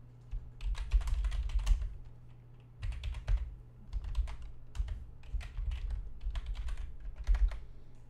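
Computer keyboard typing in bursts of rapid, close keystrokes with short pauses between runs, fairly quiet over a steady low hum, no talking.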